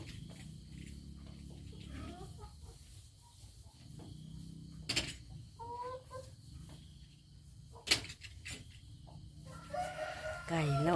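About a hundred laying hens in a chicken house cluck and call at mid distance, with several crows breaking through over a constant low background.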